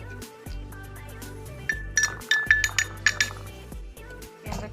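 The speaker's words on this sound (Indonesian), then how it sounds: "dengan memasukkan 1 sendok tepung terigu ke dalam gelas" A metal spoon clinking against a glass while a spoonful of wheat flour is added in a chemistry practical, a quick run of bright, ringing taps in the middle over a soft background hum.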